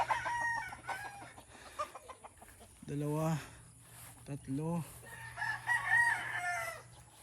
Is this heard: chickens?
yes